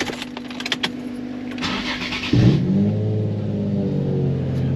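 A Nissan 350Z sits idling quietly, then its engine fires up abruptly and is revved, a loud, close, steady rumble that holds after the start with no talk over it.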